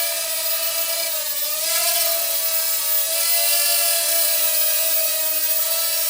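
A Yi Zhan X4 quadcopter rises and hovers close by, its rotors giving a steady, loud buzzing whine that dips briefly in pitch as it climbs, then holds level.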